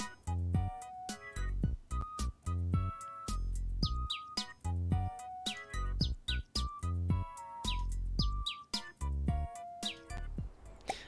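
Quick high tweets from a cartoon canary in the rhythm game Bits & Bops pop out in steady patterned bursts, riding on top of a lively, percussive game tune with no talking.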